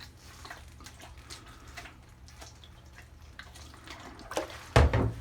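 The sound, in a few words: alcohol rinsing an arcade circuit board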